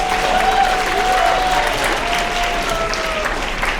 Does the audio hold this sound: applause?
yes